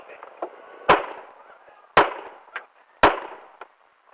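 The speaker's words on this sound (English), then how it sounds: "Shots fired, shots fired." Gunshots ring out during a police encounter, three sharp, loud cracks spaced about a second apart, each with a short echoing tail, plus a few smaller knocks between them.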